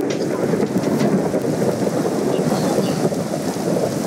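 Thunder rolls in a steady, dense rumble after a lightning strike during a storm in a game world, with rain noise blended in, loud and continuous with no voice.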